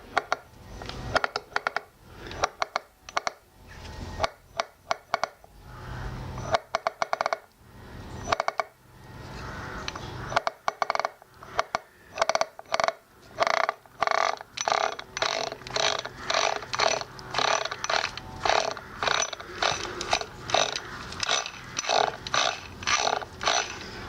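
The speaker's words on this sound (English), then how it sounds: "I don't like to be hearing click, click, click, click, click, click, click." An NSU Quickly S2 three-speed moped engine turning over with metal striking metal inside, a loud rapid train of sharp mechanical clicks that starts ragged and settles into a fast, even rattle, alone and close.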